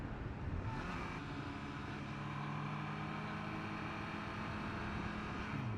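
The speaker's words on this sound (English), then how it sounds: "Can-Am tricycle." A Can-Am three-wheeled motorcycle passes close by with a rising then steady engine drone and road noise, alone with no talk.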